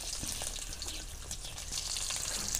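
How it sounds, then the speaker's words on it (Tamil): Curry leaves and small onions sizzle and crackle steadily in hot oil, a loud close frying hiss with no talking. "இப்போ நான் வந்து கொஞ்சமாக கருவேப்பிலையும் சின்ன வெங்காயமும் சேர்த்துக்கிறேன்."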